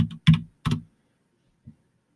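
Three soft, close keystroke clicks on a computer keyboard, spaced irregularly in a quiet room, with a faint fourth tap after a pause.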